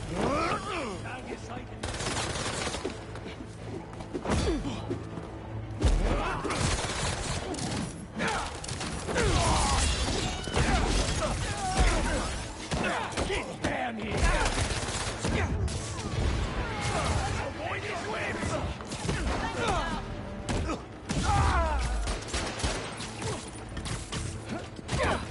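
Dense, constant gunfire and crashing combat noise from a fight in Marvel's Spider-Man 2, loud and chaotic for the whole stretch with rapid repeated shots and impacts.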